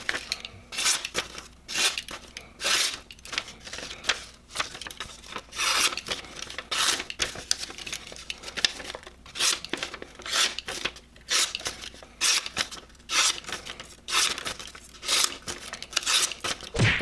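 A Reate EXO-M gravity knife slices and tears through material in repeated short rasping strokes, a steady scratchy rhythm of close cuts with occasional tearing pulls, no voices.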